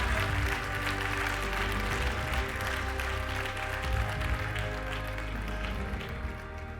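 A crowd applauds steadily at the MICHELIN Guide Istanbul, İzmir and Bodrum award ceremony as one-star restaurants are honoured. The dense clapping holds at an even level throughout, with a tonal music bed running underneath.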